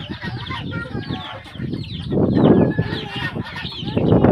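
Chickens on a village duck farm beside a river give broken, repeated clucks over a steady outdoor bustle, with louder bursts of fowl calls toward the middle and end, close to the microphone.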